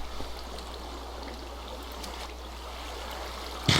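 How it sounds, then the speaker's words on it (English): Steady rain falls in the video game Agrarian Skies 2, a continuous even hiss with no talk, ending in a brief louder burst. "But hey, it's raining now."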